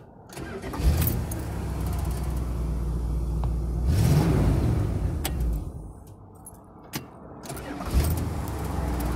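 A pre-smog Dodge Shorty van engine cranks and catches near the start, settles into a rough idle, then revs up and falls back, with a few clicks and knocks around it, close and fairly loud.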